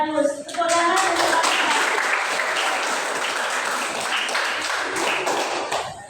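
Classroom of eighth-grade students clapping together, a loud sustained burst of dense applause that begins abruptly and holds steady before tapering at the end.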